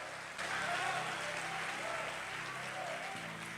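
A church congregation claps together in sustained applause, a dense wash of hands that starts abruptly and holds steady for a few seconds, fairly close, with a voice faintly underneath.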